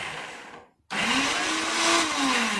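A Silver Crest blender runs loud and close, cutting out briefly before restarting with a steady whirring roar whose pitch slowly rises and falls.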